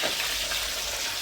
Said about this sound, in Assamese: গাইজ এয়া মাছ ভাজিছে দীপকে